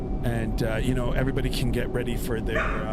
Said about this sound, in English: Yeah, sorry about the dogs there.